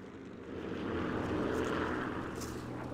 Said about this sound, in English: Oh, here come the planes.